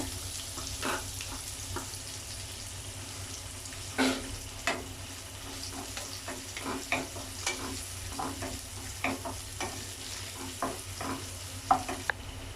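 Sliced onion frying with cumin in a pan for bread masala, a steady low sizzle broken by scattered clicks and scrapes of stirring, close and moderately quiet with no talking.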